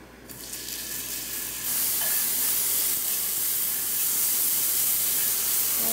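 Shiitake mushrooms and meat stir-frying in a pan, a broad steady hiss that swells and grows louder after a moment and continues evenly with no voices.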